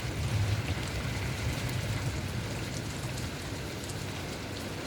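Heavy rain pours at night in Mumbai, a dense, even hiss of drops with a low rumble underneath, continuous and close throughout.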